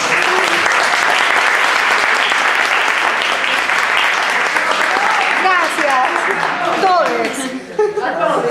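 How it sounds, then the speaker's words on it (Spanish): Loud, sustained audience applause fills a lecture hall at a Spanish linguistics conference panel, dense steady clapping with scattered chuckles and voices beneath that thins near the end. "Te damos un fuerte aplauso."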